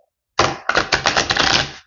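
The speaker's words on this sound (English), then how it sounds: "I'll shuffle the deck and split it" Crisp, rapid rustling and riffling of a deck of tarot cards being shuffled, a brief burst then a longer continuous flurry, close and fairly loud.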